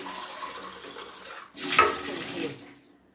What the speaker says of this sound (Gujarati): પાણી ભરાઈ ગયું